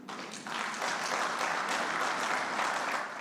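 Applause breaks out in a parliament chamber during a presidential address, a broad, sustained roar of many hands clapping, fairly distant and even.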